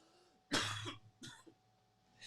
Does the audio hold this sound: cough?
yes